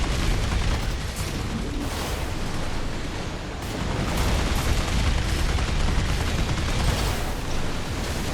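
Rapid missile explosions and booming blasts from Armored Core 6 rumble continuously at close range, a dense, loud barrage with no pause and no talking.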